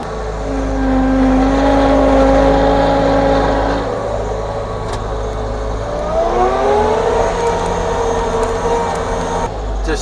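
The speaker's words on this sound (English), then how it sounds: "Then I'll increase engine RPM." A heavy skid steer engine running a snow blower attachment revs up and holds at a steady drone, its pitch climbing again partway through, loud and close with a mechanical whine.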